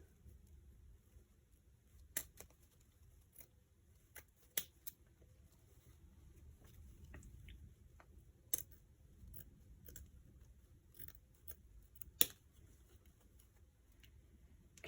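Scissors snip wreath stems at an angle in a series of sharp, isolated clicks spaced a second or two apart, close by over a quiet low hum.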